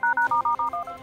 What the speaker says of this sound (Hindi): बेंगलुरु पुलिस के फोन की घंटी बजी